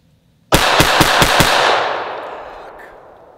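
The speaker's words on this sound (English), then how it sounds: "I'm gonna shoot 5 rounds as fast as I can" An HK USP Expert pistol fired rapidly, five sharp loud shots in quick even succession with a ringing reverberant tail fading afterward, no talking.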